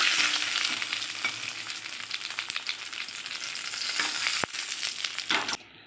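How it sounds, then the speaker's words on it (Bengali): Rohu fish head frying in hot oil gives a loud, steady crackling sizzle up close, broken by a few sharp clicks and pops before it cuts off abruptly near the end. "মাছের মুড়োটা ভাজা হয়ে গেছে। এবার আমি তুলে নেব।"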